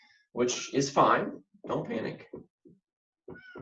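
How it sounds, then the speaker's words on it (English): A pet cat meows to be let in, a few short cries heard under a person's speech, followed by quieter meow-like calls near the end. "I don't know if you can hear my cat meowing."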